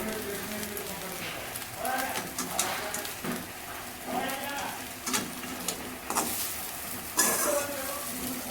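A spatula scrapes and turns poha with coriander in a pan, a soft sizzle under repeated stirring strokes, with a voice talking over it.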